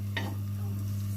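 Ghee melting with meat in a pan for an Alexandrian-style potato and meat tray, a steady close sizzle over a low electrical hum, with a brief stirring scrape near the start.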